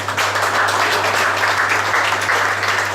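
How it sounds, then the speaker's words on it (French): Audience applause at an awards evening for a restaurant, steady dense clapping heard throughout at a constant moderate loudness, with a low steady hum beneath. "Vous pouvez vous applaudir."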